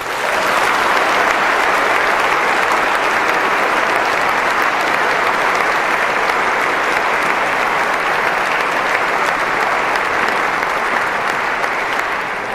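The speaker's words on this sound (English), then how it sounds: "I think we owe them a round of applause for that." Audience at a debate on the existence of God giving a dense, sustained round of applause, loud and steady throughout with no pauses.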